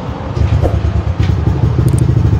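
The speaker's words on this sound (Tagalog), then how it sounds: "Testing natin, nakaandar ang motor." A Yamaha Nmax V2 scooter engine runs close by with a loud, steady, pulsing idle throb and light mechanical clatter, with no talk over it.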